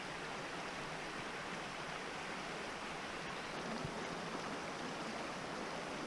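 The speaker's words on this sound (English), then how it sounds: "The creek was still flowing fairly well." Steady rushing of Whitemud Creek flowing nearby in summer, an even broadband hiss with no pauses and no voices.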